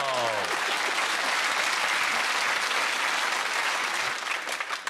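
A crowd applauding loudly and steadily for several seconds, dense clapping that thins slightly toward the end.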